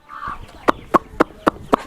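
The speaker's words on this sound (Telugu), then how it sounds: "కోళ్ళు ఏమో అటు ఉరుకుతున్నాయి" Five short, sharp clucks come in a steady rhythm, close by, with a quieter chicken call at the start.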